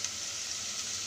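Chicken and chickpeas roasting in hot oil in a pan, giving a soft, steady sizzle with faint crackles over about a second.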